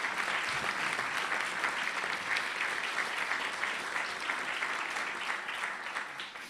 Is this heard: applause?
yes